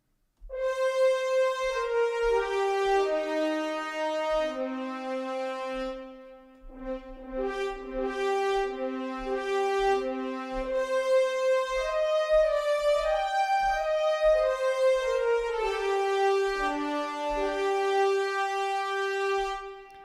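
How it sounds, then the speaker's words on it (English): Orchestral brass from the EastWest Hollywood Brass sample library plays sustained chords and a slow melodic line, rich and full, with low accented notes underneath, running continuously without any voices. "So we have the Hollywood brass, and it sounds like this."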